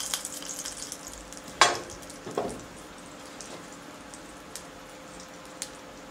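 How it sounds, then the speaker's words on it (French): Blini batter poured into small blini pans, a low steady sizzle running throughout with a sharp pop and a couple of brief crackles and clicks near the start, heard close and alone. "le mettre dans les poêles. Nous pouvons utiliser des poêles à blinis"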